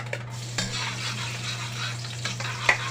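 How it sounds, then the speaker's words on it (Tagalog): Garlic sizzles and fries steadily in a pan of hot oil while being sautéed for chicken adobo, with occasional scrapes and clinks of a utensil against the pan, close and continuous. "So sisimula na natin yung paggigisa guys. So unahin natin yung bawang"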